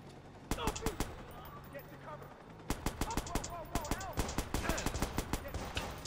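Gunfire aimed at the player in Watch Dogs, a rapid string of loud shots and bursts that quickens into dense volleys partway through, with game voices in the background.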